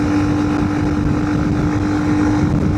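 A Honda CRF300L motorcycle with a big bore engine accelerating uphill at around 60 mph, a loud steady engine drone with a fixed tone, heavily mixed with buffeting wind roar.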